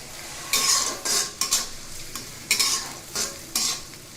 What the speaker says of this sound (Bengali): পেঁয়াজটুকু একটু নেড়ে চেড়ে একদম বাদামি রং করে ভেজে নিব তেলের সাথে